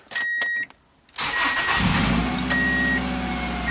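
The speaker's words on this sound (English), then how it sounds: "Definitely sounds a lot more solid with the crunch of the starter." A Subaru Legacy with a new battery chimes briefly, then the starter cranks with a short crunch and the engine catches, settling into a steady close idle.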